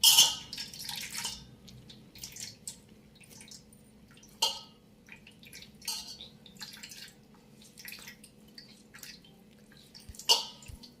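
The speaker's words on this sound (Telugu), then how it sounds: "దీనిలో నుంచి చాలా నీళ్లు కారుతాయి" Water dripping from salted ash gourd pieces set out to release moisture: a few sparse, faint drips and light splashes spaced seconds apart in a quiet room.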